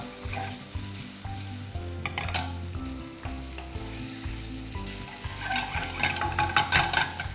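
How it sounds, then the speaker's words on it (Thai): Thick-cut bacon stir-frying in olive oil for a pasta dish gives a steady, close sizzle with crackling pops that grows busier toward the end, while quiet background music runs underneath and no one speaks. "เราลวนเบคอนให้ขึ้นสีเล็กน้อยก่อนนะครับ"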